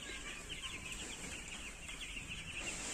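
Young chicks cheeping in a brooding area on a poultry farm, a dense, continuous chorus of high peeps from many birds filling the space at moderate loudness.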